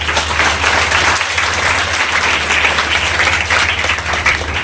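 Loud, close audience applause at a Hindi poetry recital gathering, a thick continuous wash of many hands clapping over a steady low hum from the hall's sound system.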